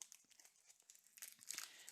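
A package is cut open with scissors, giving a close, quiet stretch of crinkling and tearing of wrapping that swells slightly toward the end.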